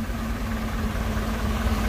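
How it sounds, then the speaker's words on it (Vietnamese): A steady low boat engine drone with a constant hum, a fishing boat coming in nearby at night, continuous and unchanging throughout. "Bên này là một cái ghe nữa vô nè."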